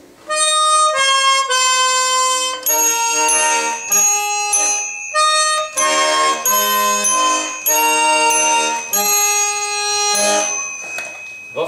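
A Saratov harmonica plays a lively tune of bright, reedy chords and notes with small bell-like chimes, close and loud, phrases starting and stopping in quick rhythmic bursts.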